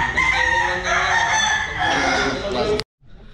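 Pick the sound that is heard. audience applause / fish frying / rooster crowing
rooster crowing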